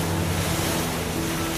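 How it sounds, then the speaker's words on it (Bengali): Surf breaks steadily on a quiet, secluded beach at Baguran Jalpai in West Bengal, a continuous loud wash of rushing water with a low rumble beneath and no voices. "শুধু ঢেউয়ের আওয়াজ, কিছু পাখির ডাক,"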